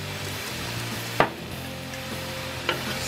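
Beef and broccoli stir fry sizzles steadily in a hot pan while being stirred, with a couple of sharp scraping clacks from the utensil over the constant frying hiss.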